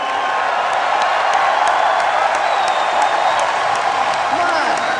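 An audience at a 2009 Blizzard event show cheers and applauds in a steady, moderately distant wash of clapping and whoops, with no single voice standing out.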